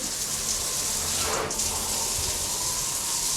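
Water runs from a tap in a hotel room with a steady, even hiss and gush that stays constant throughout, with no talking.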